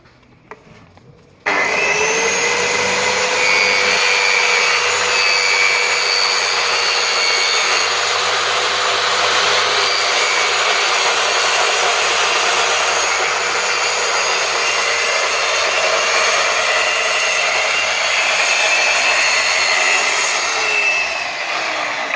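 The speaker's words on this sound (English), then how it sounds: "I'm literally just going to cut through the plastic guard" A Scheppach PL55 plunge rail saw spins up and then cuts steadily through its own plastic guard. The loud, even whine and cutting roar runs for about twenty seconds without a break, with no voices.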